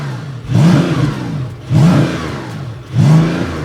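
Porsche 992.2 GTS exhaust fitted with a KIES valve controller, revving loudly in three sharp throttle blips about a second apart, each rising then falling back to a rumbling idle, close by and without talk.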